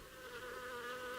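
Flies hum steadily and close at a red-backed shrike's nest, a continuous thin droning buzz with no pauses and no voices.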